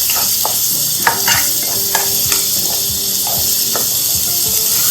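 Onions sauté in a pan with a constant loud sizzle and hiss, broken by scattered scraping strokes of a spoon stirring them. No one speaks.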